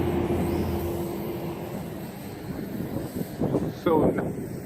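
Outdoors, wind buffets the microphone in a steady low rumble, with stronger gusts near the end, while a small JJRC H33 drone is flown.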